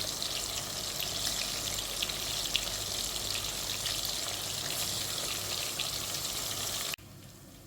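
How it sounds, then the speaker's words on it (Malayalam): Chicken pieces wrapped in pandan leaves fry in hot oil, giving a steady, dense sizzle and crackle that stays close and even before dropping suddenly to a quiet hiss near the end. "ബാക്കിയുള്ളത് ഇതുപോലെ നമുക്ക് ഫ്രൈ ചെയ്തെടുക്കാം"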